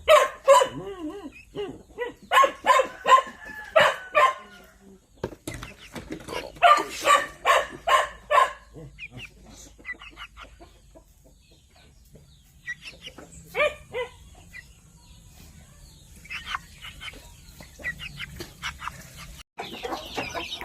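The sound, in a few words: stag rooster in the farm yard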